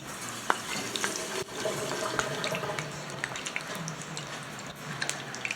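Soaking water is poured off a little over a cup of blueberries in a kitchen, giving a steady, faint running-water wash with a few small splashes and clinks.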